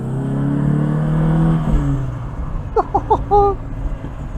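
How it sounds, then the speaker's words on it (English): An Alfa Romeo Alfasud Sprint Veloce engine drones and fades on the road, followed by a quick series of sharp exhaust pops and crackles as the revs drop. "The exhaust popping away as we come off."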